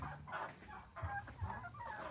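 A chicken on a farm clucks in low, short bursts near by, with a faint background of other fowl and no talking.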